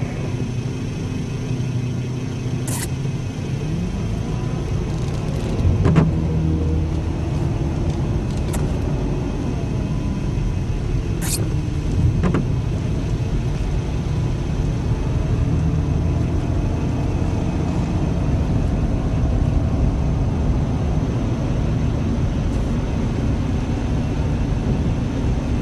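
A vehicle drives steadily through shallow puddles near Lake Snohomish, its engine a continuous low rumble with faint splashing and a few brief knocks, with no talking.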